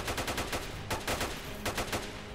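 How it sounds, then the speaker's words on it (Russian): Gunfire in the S.T.A.L.K.E.R. video game, rapid bursts of automatic shots with short gaps between them, fairly distant and moderately loud, with no talk. "Опять стрельба."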